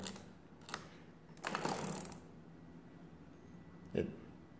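A de Colmar arithmometer being worked after repair of a spring-loaded bevel gear, giving close mechanical clicks and a brief rattling whir of gears and levers, with a knock near the end and quiet talk nearby.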